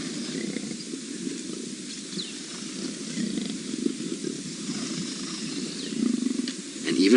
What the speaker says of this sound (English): And even Hosana is now growling as well.